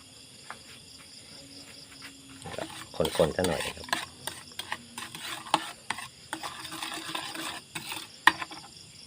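Kingfish and ginger stir-fried in a pan with oyster sauce and dark soy, a steady sizzle under scraping and clinking of a utensil, with sharper knocks of stirring in the second half.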